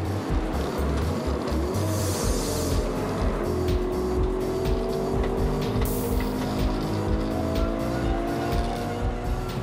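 Toyota 86/Subaru BRZ race car on a qualifying lap at Okayama in 2017, engine droning loud and close from inside the car with gearshifts and revs rising and falling, commentators talking over it.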